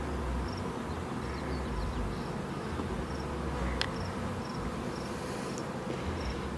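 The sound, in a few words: bees swarming on a tree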